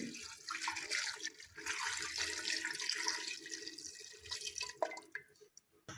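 Water pours steadily into a cooking pot holding duck, a splashy, trickling rush that tapers off near the end, followed by a few drips and clinks.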